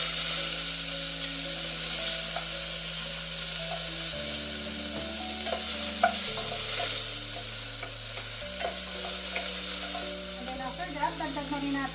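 Onion and tomato sizzle in a hot pan for arroz valenciana, a steady loud frying hiss with occasional stirring scrapes, while background music plays throughout.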